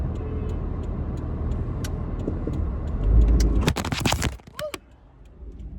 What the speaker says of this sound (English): The car is making a noise.